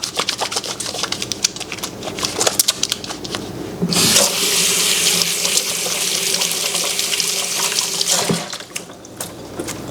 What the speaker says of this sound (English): and wash my hand